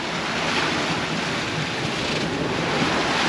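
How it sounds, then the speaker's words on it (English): Big ocean waves rush around a sailboat at sea during a solo sail, a loud, continuous broadband wash of water and wind with no break across the whole stretch. "So this is big waves."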